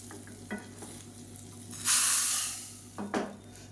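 A tempering of mustard seeds, urad dal, cumin, dried red chilli, asafoetida and curry leaves is stirred into bottle gourd kootu, giving a few scraping strokes and a brief bright hissing sizzle in the middle.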